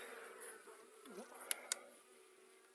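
Buckfast honeybees buzz steadily nearby while being fed comb honey, a continuous drone with a few brief sharp clicks, and no voices.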